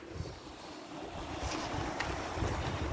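Hot spring water pouring down like a small waterfall from a fumarole into a lukewarm pool at Buckeye Hot Springs, a continuous broadband rush heard up close with no talking.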